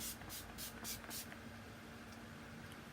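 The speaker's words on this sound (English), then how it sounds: "All we're gonna do is use our finishing spray by Limelight one more time." Limelight finishing spray is sprayed onto hair in four or five quick hissing pumps, close up, followed by steady quiet room noise.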